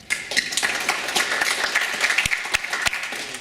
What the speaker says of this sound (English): Let's give another round of applause for that video.